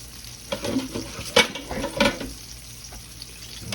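Pork steaks being browned in hot oil in a pan, with a steady close sizzle and a few louder stirring scrapes and clatters in the middle.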